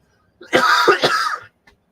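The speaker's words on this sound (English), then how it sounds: "Coughing like crazy still." A person in a quiet room gives one short cluster of two or three harsh, close coughs, with a faint trailing rasp after.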